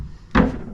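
A small drawer in a hotel room on the fifteenth floor slides and knocks shut once, a short close wooden thud with a brief rattle, heard alone in a quiet room.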